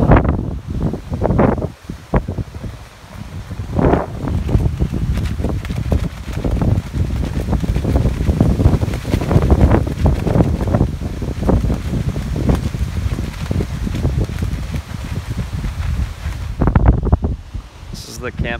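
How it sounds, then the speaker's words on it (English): Strong wind buffets the microphone at a lakeside campsite on Lake Superior, a loud, gusty roar with rustling bursts that runs throughout while a person talks over it. "this is the windiest I've ever camped in"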